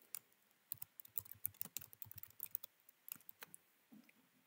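Typing on a computer keyboard while composing an email in Outlook: a quiet run of quick, uneven key clicks with short pauses, close and alone with no talk.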